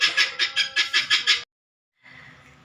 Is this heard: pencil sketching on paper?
no